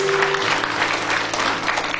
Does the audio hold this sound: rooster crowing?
no